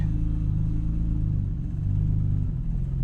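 Deep, steady low rumble of a Nissan R34 Skyline engine on its first drive after pickup, loud and close with a slight dip in revs partway through, no talking.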